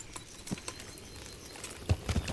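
Hooves clip-clopping as a horse approaches in Kingdom Come: Deliverance, a few soft scattered steps early, then a louder cluster of close hoof strikes near the end.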